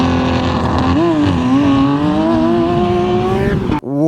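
A Tesla Model X Plaid, a six-seat electric SUV, launches in drag strip mode, its loud steady motor whine rising and sweeping upward for about four seconds before cutting off abruptly near the end.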